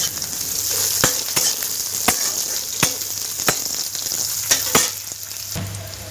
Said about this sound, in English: Mom tempered the oil with kalonji, dried red chili and green chili and also some crushed garlic. Then she added the brinjal.